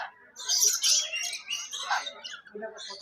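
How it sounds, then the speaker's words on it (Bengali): A scarlet macaw at the Eco Park zoo in Kolkata gives harsh, raspy squawks in several bursts, moderately close, with other zoo birds around. "ওখানে ম্যাকাও বসে ডাকছে।"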